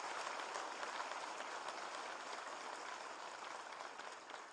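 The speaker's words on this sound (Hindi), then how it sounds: "एक बार उनके लिए भी ताली बजाएं।" Steady applause from a seminar audience fills the whole stretch, dense and even, honouring a chairman named Hemant Sethiya at a National Electropathy Day event; no voices stand out above the clapping.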